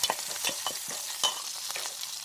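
A pan of small fish curry sizzles steadily up close while a spoon stirs and scrapes through the ingredients in repeated strokes, with no talking.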